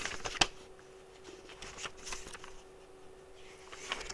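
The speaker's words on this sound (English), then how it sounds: "Page turned outside." A comic book page being turned, a quick papery flick followed by soft rustles and a few light shuffling sounds in a quiet room with a faint steady hum behind.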